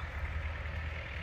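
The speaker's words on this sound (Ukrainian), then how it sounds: "Трактор працює," A tractor mowing grass in a park runs with a steady, low engine drone that holds constant throughout, with no voices over it.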